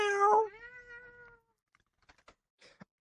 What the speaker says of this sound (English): Did she just meow back?